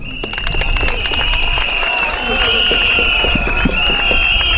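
Audience applauding a mayor's speech at a town celebration: dense, loud clapping and crowd noise filling the whole stretch, with a sustained tone running above it and voices mixed in.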